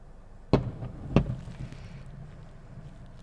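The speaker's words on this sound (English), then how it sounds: "already we're seeing more fireworks than we did last time" Fireworks bursting at Magic Kingdom during a test show, two sharp distant booms about half a second apart, then a soft rumble fading under outdoor wind noise.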